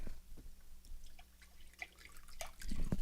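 Reduced-sodium chicken broth poured into a pot of potato and turkey sausage soup: soft liquid splashing and dripping, faint and close, with a low hum in the background.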